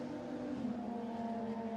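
GT race car engines during the Kuwait 12 Hour endurance race, a steady droning engine note with sustained harmonic tones, moderately distant and constant without sharp changes.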